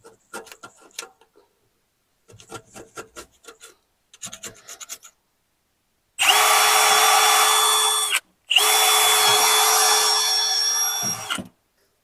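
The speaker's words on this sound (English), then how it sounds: "I want to clean up this gasket surface a bit." A power tool whirs on an engine's intake gasket surface in two long continuous bursts, loud and close, after several short scraping and tapping sounds.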